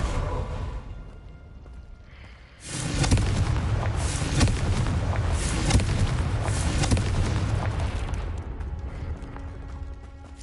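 The Confringo blasting spell in the video game Hogwarts Legacy erupts in a sudden loud explosion after a quieter lead-in, followed by a sustained roaring, rumbling blast that carries on for several seconds.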